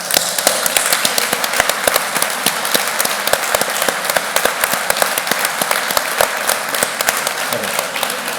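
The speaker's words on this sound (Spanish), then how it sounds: "me gustaría darle un fuerte aplauso de todos" An audience at a film festival panel gives a tribute round of applause, loud, close clapping with sharp individual claps standing out, continuous for several seconds.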